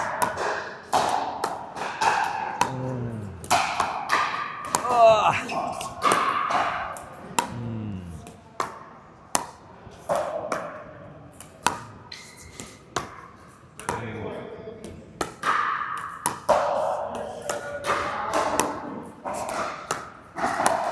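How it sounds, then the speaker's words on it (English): Pickleball paddles tapping dinks back and forth during a warm-up, sharp hollow pops at a steady rally pace, close by, with people talking over and between the hits. "Warm up, hit some dinks."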